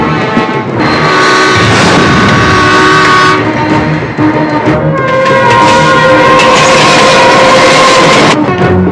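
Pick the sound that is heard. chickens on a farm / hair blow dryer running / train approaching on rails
train approaching on rails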